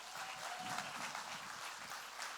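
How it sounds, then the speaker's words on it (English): A conference audience at a coaching summit in Egypt gives a speaker a steady round of applause. It is faint and distant, a continuous wash of many hands with a little murmur underneath. "Please give a round of applause."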